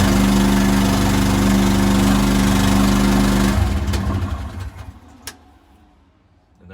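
A new mini excavator's engine runs with a loud, steady low drone, then cuts off partway through, leaving quieter clicks and a brief knock afterward.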